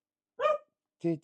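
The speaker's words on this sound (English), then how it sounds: "Sorry about the dog." A dog barks twice in a room, two short, fairly loud barks about half a second apart, heard close with a faint voice nearby.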